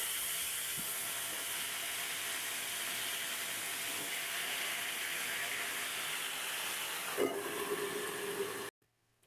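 Whole brinjals frying in hot oil in a curry pan make a steady, even hiss that runs throughout, with a brief clatter near the end before the sound cuts off.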